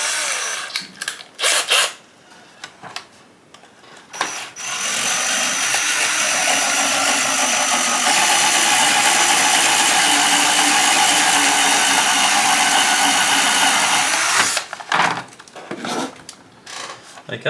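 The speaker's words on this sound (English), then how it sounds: "Remember that the first segment of this castle drill is 4mm." A step drill bores into a sheet of high impact polystyrene, its loud, steady whine running alone for about ten seconds between a few short bursts of handling noise.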